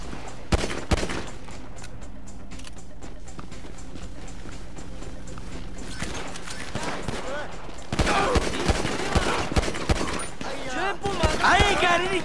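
Bursts of gunfire in Grand Theft Auto V during a chaotic shootout, with loud rapid shots and clatter rising toward the end, mixed with shouting voices and game sounds.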